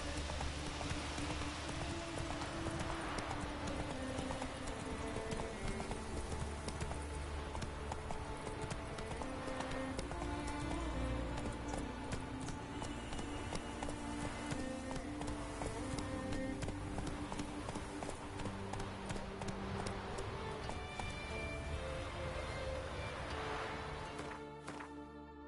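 Galloping horse hooves in a video game, a steady fast clip-clop running continuously over a rain-like patter and game music, loud and close throughout.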